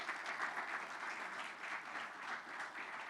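A church congregation applauds steadily for a few seconds, a dense continuous clapping at a moderate distance with no voices over it.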